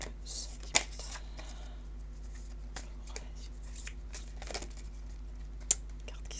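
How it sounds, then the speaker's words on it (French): Oracle cards being shuffled and flipped over during a card reading, soft papery riffles and crisp snaps scattered over a low steady hum, with a few sharper card slaps standing out. "Carte qui se retourne, on va regarder celle-ci."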